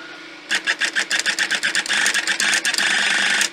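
An Olympia Monica electric typewriter, an old machine with a decades-old cable, runs on its motor with a rapid mechanical clatter of repeated bursts after a half-second of quiet, continuing steadily and fairly loud with no one talking.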